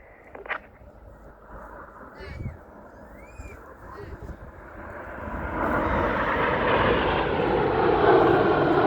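Red Arrows display jets at an RAF Cosford air display pass from the left, a broad jet roar that builds steadily from faint to loud and close over several seconds, with brief crowd sounds and voices early on.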